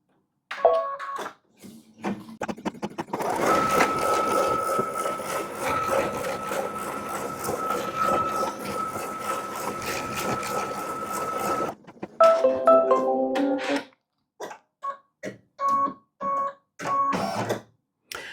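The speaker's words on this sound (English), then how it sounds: "the machine is going to embroider on the same area that it did for this tack down right here" An embroidery machine on fast mode stitches a quilt tack-down in the hoop with a fast, even mechanical whir lasting several seconds, preceded and followed by short stop-start bursts of stitching.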